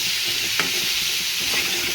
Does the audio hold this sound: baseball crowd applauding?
no